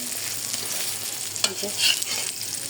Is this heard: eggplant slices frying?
yes